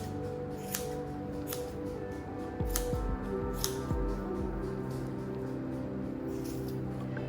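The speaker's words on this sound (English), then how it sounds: "I like to trim all the way around the edges here." Scissors trimming excess hair around the edges of a doodle dog's paw during grooming, giving several quick, crisp snips spaced irregularly over a steady low background hum.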